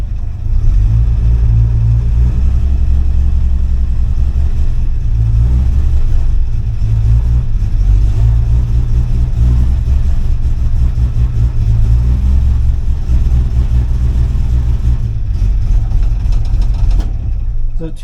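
A vehicle engine, likely in a tank-building setting, runs steadily with a loud low rumble, idling and revving slightly as it is put in reverse, continuous and close for the whole stretch.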